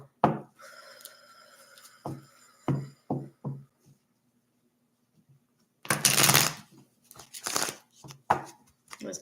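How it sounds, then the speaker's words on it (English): Cards being shuffled close by: scattered taps and snaps, then a dense riffling burst, followed by a few more light clicks. "A few more shuffles."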